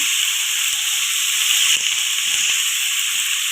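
Potato, carrot and cauliflower stir-frying in a pan, a steady loud sizzle and hiss throughout with faint clinks of stirring underneath.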